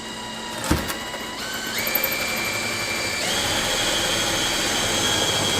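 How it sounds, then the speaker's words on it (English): A power drill whines steadily after a sharp knock, its pitch stepping up as it bores a small hole through a widebody kit into the quarter panel of a 2017 Subaru WRX STI, loud and close with no talking. "drill a tiny hole into the wide body kit and into the quarter panel of the car"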